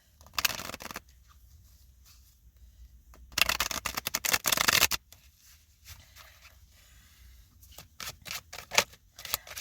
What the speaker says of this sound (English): I'm gonna go ahead and like shuffle these again,